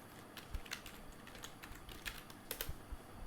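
Soft keystrokes on a computer keyboard while CSS code is typed, an uneven run of quick, faint taps with a short burst near the end.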